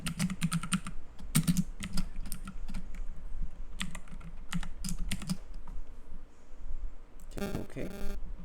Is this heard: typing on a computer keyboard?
yes